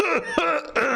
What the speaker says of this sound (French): j'ai une petite toux là, tu vois